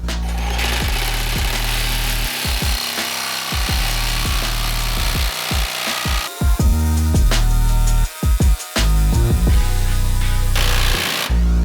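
A Revolt cordless jigsaw cuts wood with a loud, rapid buzzing chatter, running in bursts that stop and restart several times with brief pauses between cuts.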